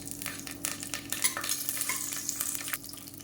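Whole spices (fennel, stone flower, cinnamon, cloves, cardamom and star anise) crackle and sizzle steadily in hot oil, with frequent sharp pops and stirring scrapes, close and continuous with no talking.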